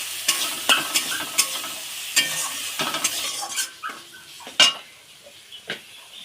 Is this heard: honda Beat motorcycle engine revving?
no